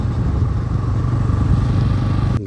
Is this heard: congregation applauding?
no